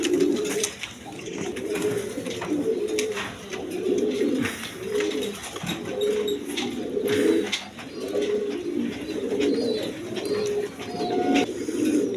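Jacobin pigeons cooing in a steady, repeating rhythm of low, throaty calls, close and fairly loud, with faint chirps behind them.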